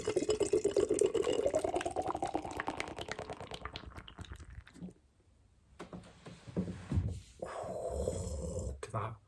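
Big Frank DIPA from Two Flints is hard-poured into a glass: a loud, foaming gush whose pitch rises as the glass fills, then stops and gives way to quieter clinks and fizzing.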